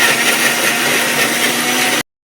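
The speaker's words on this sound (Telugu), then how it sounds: "మిక్సీ వేసేసుకుందాం." A mixer grinder blitzing fresh coriander, green chilli and ginger, a steady loud whirring roar that runs unbroken for about two seconds and then cuts off abruptly.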